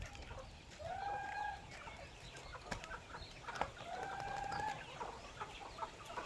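Chickens cluck and make short drawn-out calls at a moderate distance during feeding, over a noisy outdoor background, with no one talking.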